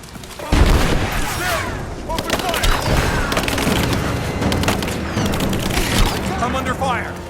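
Loud, dense gunfire and booms from Rise of the Tomb Raider, starting with a heavy blast and continuing as sustained shots under shouted voices.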